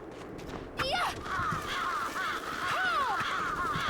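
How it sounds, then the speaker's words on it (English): Crows caw in the video game Bloodstained: Ritual of the Night, a few harsh rising and falling calls over a steady game ambience, with a person talking lightly alongside. "I thought those birds were going to attack me for a second."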